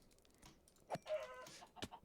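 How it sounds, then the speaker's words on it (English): Several chickens in a video game cluck in short bursts, with brief squawks around the middle and a sharp call near the end, over a quiet background. "This is a lot of chickens."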